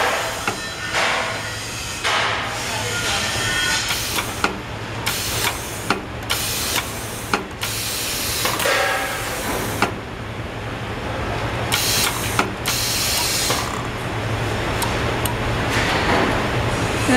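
An STC-QD11 pneumatic logo heat press machine, 15x15 cm, running with a steady low hum, repeated sharp pneumatic bursts and hissing air releases at irregular intervals, close and loud.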